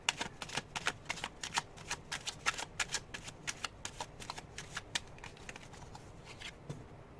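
Tarot cards are shuffled by hand in a steady series of crisp, riffling bursts, about two dozen quick slaps close up and alone with no talking.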